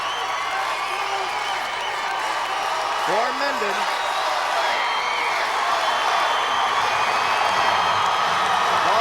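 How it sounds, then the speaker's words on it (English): Spectators at a 1991 high school Class DD football final between Mendon and Lake Linden-Hubbell cheer and roar steadily, a dense continuous crowd din under a commentator's voice. "You can hear the crowd. Oh, it's getting wild."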